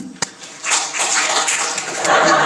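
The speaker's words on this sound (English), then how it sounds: "So the entire team gets a big round of applause." Steady applause from a group of people, dense and continuous clapping that swells slightly toward the end.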